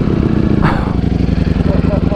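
A Ducati Streetfighter V4 S with a full Akrapovic titanium exhaust starts up and settles into a loud, deep, rapidly pulsing idle close by, with a voice speaking briefly over it.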